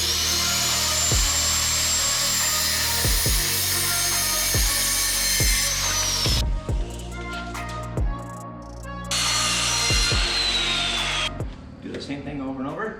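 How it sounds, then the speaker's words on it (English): A borrowed wood saw cuts deck boards to length for a flat-deck utility trailer built from a boat trailer. A loud, continuous whine rides over a rhythmic low thumping and drops away briefly between cuts. "the plan is to cut our deck boards to length and just kind of make those work, because I don't have a wood saw, so I'm stealing Dad's"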